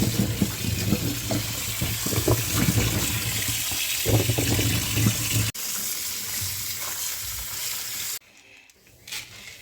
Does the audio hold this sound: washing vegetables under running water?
yes